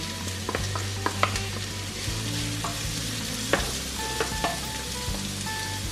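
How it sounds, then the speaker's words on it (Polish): Diced white onions fry in olive oil in a pan, a steady close sizzle broken by occasional clinks and scrapes of a utensil, with no voices. "Ja mam tutaj na patelni 4 łyżki oliwy z oliwek i dodaję sporą ilość białej cebuli pokrojonej w kostkę"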